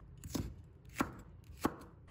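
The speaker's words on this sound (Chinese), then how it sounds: "再改刀切成条。" A knife cuts a red chili into strips on a board, making three crisp, evenly spaced chops about two-thirds of a second apart, heard close and fairly quiet with no voices.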